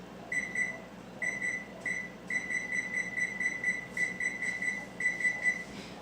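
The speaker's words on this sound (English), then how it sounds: "I'm going to set the timer for about 20 minutes" A kitchen timer being set in a home kitchen gives out a run of short, high electronic beeps in quick clusters, repeating steadily for several seconds over quiet room noise.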